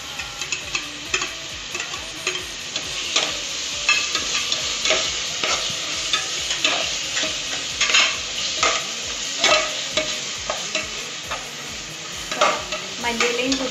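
Chicken biryani masala with crushed green chillies being stirred in a pot, a low sizzle running under repeated scraping and clinking spoon strokes in an uneven rhythm, close and fairly loud, no talking.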